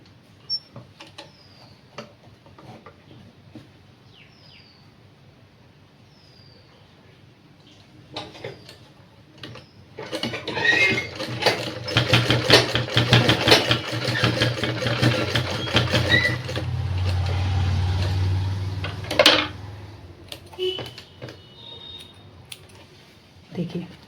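A sewing machine stitching a cord onto a small Laddu Gopal dress runs steadily for about ten seconds at close range, following a stretch of quieter handling noises and someone talking.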